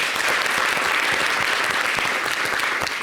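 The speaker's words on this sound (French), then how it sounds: "Applaudissez pour lui." Audience applause on a French holiday television show, dense continuous clapping from a studio crowd, loud and close, filling the whole moment without pause.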